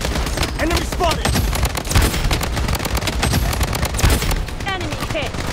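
Automatic weapons fire in the shooter game Bloodstrike, a continuous loud rattle of rapid shots with sharp bursts throughout, dense and close, with game voice callouts mixed in.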